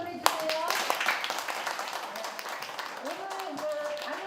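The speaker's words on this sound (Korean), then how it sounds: "박수 한번 보내주세요" A crowd claps for a speaker at an evening outdoor talk-and-concert event. The dense applause starts loud, then thins out as a voice begins talking over its tail.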